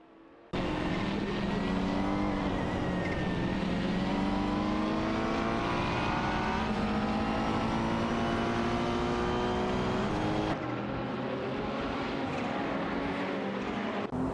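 Race cars such as a Nissan GT-R GT3 and a Renault Sport RS1 GT3 roar around a track in an AI-driven racing game, a dense continuous engine drone with rising and falling pitch that briefly cuts and resumes.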